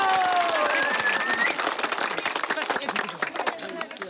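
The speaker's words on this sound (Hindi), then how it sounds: "दर्शक वृंद ताली बजाई जो" Audience applause at a staged performance, sustained crowd clapping with dense irregular claps throughout, loud and steady, with a faint tonal sound briefly at the start.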